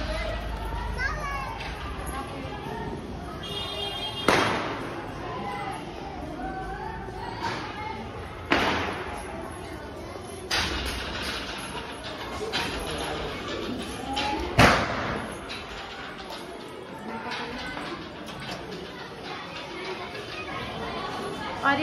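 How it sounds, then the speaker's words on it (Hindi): Diwali firecrackers going off outdoors during festival celebrations, with several sharp loud bangs spaced a few seconds apart over a steady bed of children playing and chattering nearby. "और ये पटाखे एंजॉय करते हुए"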